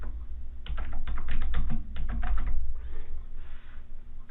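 Fingers type a command on a computer keyboard in a quick, close run of clacking keystrokes lasting about two seconds, followed by a softer pause and faint rustling.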